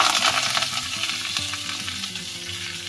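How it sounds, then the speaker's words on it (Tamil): Steady hot-oil sizzling and crackling as a tempering is poured into rasam, close and fairly loud, with faint stirring or pouring noises underneath and no talking. "ஒரு ரசத்துக்கு தாளிச்சாச்சு அதை இதில் சேர்த்துடலாம்"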